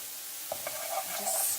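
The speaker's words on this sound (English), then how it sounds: "Just stir that round in the soy sauce." Toasted sunflower seeds being stirred with soy sauce in a hot pan, a brief soft sizzle starting after a short quiet moment, with light scraping, fairly faint and close.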